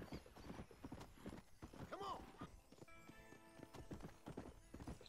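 Horse hooves clip-clopping at a steady riding gait in the Red Dead Redemption video game, with a brief neigh and game music under a voice talking.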